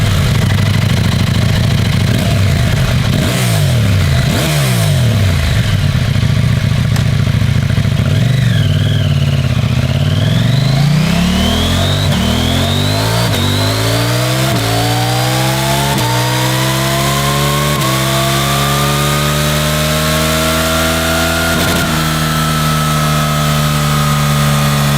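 A KTM parallel-twin motorcycle engine with a 435-degree firing interval runs loud and close, starting with uneven throttle blips, then revving steadily upward in one long climbing pull.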